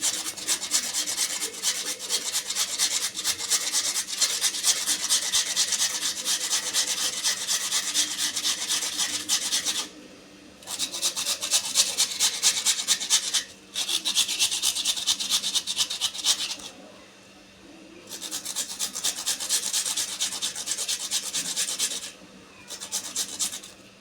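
Boiled potatoes are rubbed across a small grater for medu vada, giving rapid rhythmic rasping strokes in several bursts separated by short pauses, close and without talk.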